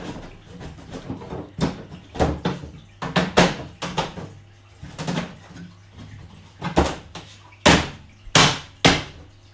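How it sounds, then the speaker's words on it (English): Wooden pieces of a model railway baseboard knocking and tapping as a front section is slotted into place, a series of sharp close wooden knocks and clacks in irregular bursts with a steady low hum beneath. "Then you take the front piece, which is this section. Again, make sure the writing's on the inside. And then this should slot in the top."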